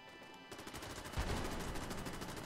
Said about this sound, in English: Why is everything shooting all of a sudden?